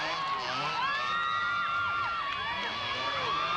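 An enthusiastic crowd cheers and whoops at the 1991 West Cork Rally, a dense, steady wash of shouting voices close by throughout, with no single speaker standing out.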